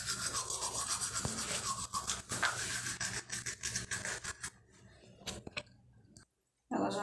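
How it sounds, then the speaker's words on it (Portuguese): A toothbrush scrubs teeth up close with a continuous wet, bristly rasping that gradually slows, turns sparser and breaks off near the end. "Escovar o dente."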